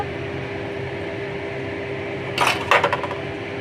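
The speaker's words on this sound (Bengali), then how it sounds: "ঝোলটা ফুটে উঠেছে এবার আমি এতে মাছগুলো একে একে দিয়ে দেবো" Fish pieces slide one after another into a simmering mustard-paste gravy for a Bengali fish curry, giving a few brief splashing sizzles over a steady low background hum.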